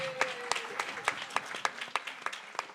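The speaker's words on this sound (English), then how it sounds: "Let's clap our hands for Jada." An audience at a community outreach session claps in a loose, uneven patter of individual hand claps, fairly faint and thin, with a voice briefly heard underneath.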